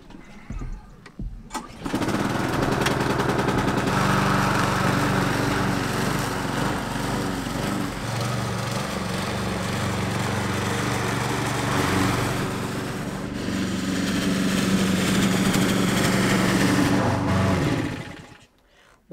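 A small lawn mower engine starts up and runs steadily with a buzzing drone while mowing an overgrown half-acre lawn, then cuts off near the end.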